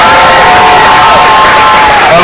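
An audience at a children's Christmas play cheers and whoops loudly for the kids, a dense, close, overloaded roar of crowd voices with clapping mixed in.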